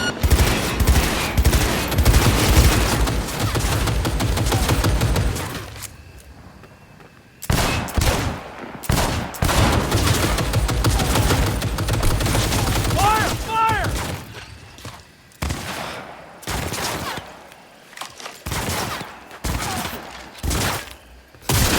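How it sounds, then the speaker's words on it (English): Heavy Cyberpunk 2077 firefights with rattling automatic bursts and single shots, loud and close, broken by short pauses and clattering mechanical sounds, with voices speaking between volleys. "Shots fired!"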